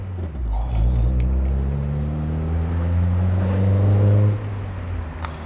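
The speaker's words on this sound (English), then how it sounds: "I simply love the Cobalt exhaust. It sounds fantastic." A car fitted with a Cobalt exhaust revs up loudly and close by, its deep engine note climbing steadily for about four seconds before dropping off sharply, with no talking.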